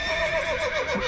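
A horse in the video game The Witcher 3 lets out one loud, close whinny that wavers and slides downward over about a second, heard alone without speech.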